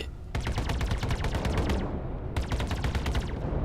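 Rapid bursts of spaceship cannon fire in the video game Star Citizen rattle loudly in two long volleys with a short pause between, sounding like arcade-style weapon fire.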